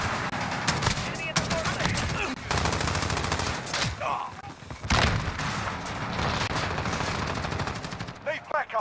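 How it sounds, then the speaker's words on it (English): Rapid automatic gunfire in the video game Modern Warfare, including shots fired through a crate: loud, dense bursts separated by brief pauses, with a few rattling single shots near the end. "He shot through the crate and killed me."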